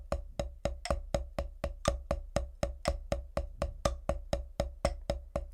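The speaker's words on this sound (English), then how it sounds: "let's play just a single paradiddle without accents" A snare drum plays a steady stream of evenly spaced single paradiddle strokes without accents, about four hits a second. The crisp, close strokes run continuously at an even volume, with no voices.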